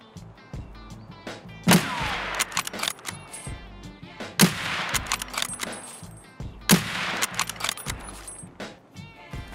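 An Obrez rifle fires in the video game Escape from Tarkov. Three sharp, separate shots ring out a few seconds apart, each with a brief echoing tail, over a low background of in-game movement.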